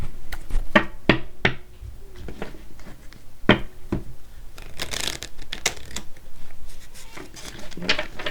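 A deck of cards is shuffled by hand during a tarot-style reading. Close riffling bursts mix with soft taps and rustles, loud at first and then in uneven flurries, with no speech.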